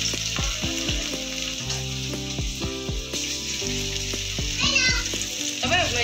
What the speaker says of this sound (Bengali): আর এখানে দেখো পকোড়া লাস্ট ভাজা হচ্ছে